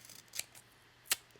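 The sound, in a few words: trimming paper with scissors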